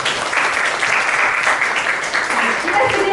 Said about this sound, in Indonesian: Boleh kasih tepuk tangan dulu.